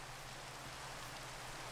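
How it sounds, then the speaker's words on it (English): Steady broadband hiss of rain falling in Minecraft, a constant even wash with a low hum beneath, no voices. "it's freaking raining"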